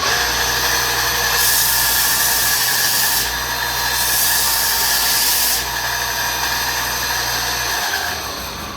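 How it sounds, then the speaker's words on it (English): A belt sander grinds steadily along the back of a knife handle scale, its motor droning loud and close while the abrasive hiss swells and eases as the scale is worked across the belt edge, then the motor winds down near the end. "So I just use the edge of the sanding belt to do that."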